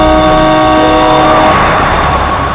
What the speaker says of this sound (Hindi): हॉर्न पे हॉर्न मार रहा है।